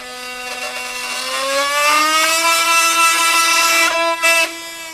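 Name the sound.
Milwaukee M18 FUEL oscillating multi-tool cutting pressure treated lumber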